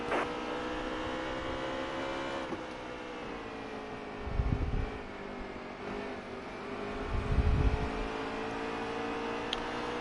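Race car engines in the NASCAR Heat 3 video game drone at a steady high pitch with layered harmonics, two deeper swells as other cars close in, with no voice over them.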